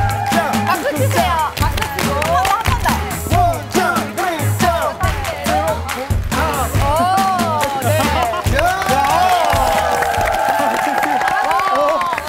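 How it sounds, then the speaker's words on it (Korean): Studio audience at a TV variety show cheering and clapping loudly throughout, crowd noise and whoops mixed with voices and some music. "박수 치세요."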